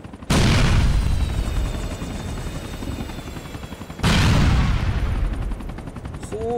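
Gunfire in Grand Theft Auto IV on PS3: two loud, sustained bursts of dense, rattling automatic fire, the second starting about four seconds in, each tailing off into a rumbling wash.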